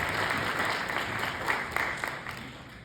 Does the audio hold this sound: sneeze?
no